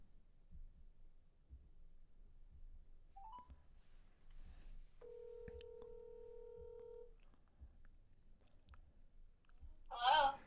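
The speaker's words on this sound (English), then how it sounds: "I'm making a phone call." A phone call is dialed, with a short keypad beep followed by a long steady dial tone lasting about two seconds, then quiet clicks and a sharper burst near the end, all faint and without talk.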